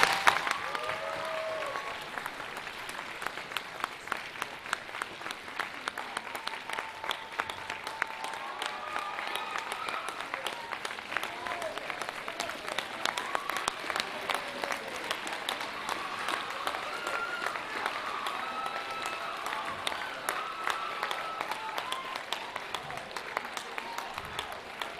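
A student audience in Minneapolis applauds to welcome Ambassador Andrew Young, dense sustained clapping from a large crowd that carries on evenly for about twenty-five seconds.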